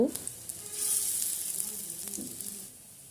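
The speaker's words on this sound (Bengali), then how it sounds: "এখন এক এক করে সবগুলো বড়া গরম তেলে দিয়ে ভালো করে উল্টে পাল্টে ভেজে নেব।" Flower fritters frying in hot oil and turned one by one, producing a close, steady sizzle with a few soft scrapes and taps as they flip.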